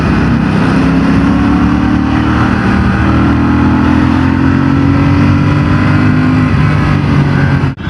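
A 2026 Royal Enfield Bullet 650 parallel-twin motorcycle with a six-speed gearbox is ridden through city traffic, its engine giving a steady, loud, close drone with gently rising pitch as it accelerates, cutting off abruptly at the end.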